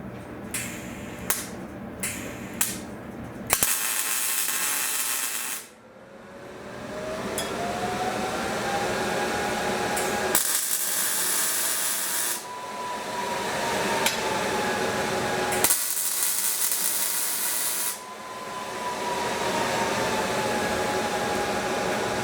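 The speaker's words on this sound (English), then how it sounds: "So let me weld this in real quick." Short bursts of tack welding join a drawer slide to a DIY teardrop trailer: three loud, harsh crackling spells close by, each a couple of seconds long, separated by quieter stretches with a faint mechanical whine.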